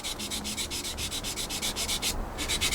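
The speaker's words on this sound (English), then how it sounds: "I'm just trying to sand this in nicely." Sandpaper rubbed quickly back and forth over seam lines on a plastic 1/48 scale Tamiya Supermarine Spitfire Mk.I model, a steady, close, rhythmic scratching of even strokes with one brief pause near the end.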